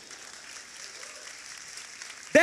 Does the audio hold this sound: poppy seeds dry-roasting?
no